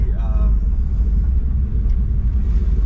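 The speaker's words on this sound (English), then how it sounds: "the cutouts just barely cracked open." A 1959 Chevrolet engine idles with its exhaust cutouts barely cracked open, a deep, steady exhaust rumble, low and throaty throughout, with a brief faint voice near the start.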